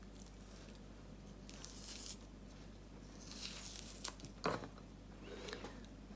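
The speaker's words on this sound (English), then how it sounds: "And then we just peel the skin on these ones." Skin is peeled off lemon quarters by hand, a few short, moist tearing rips close by with small squishy sounds between them, no talking.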